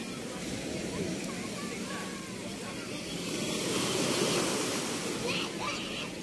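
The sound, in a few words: strong ocean waves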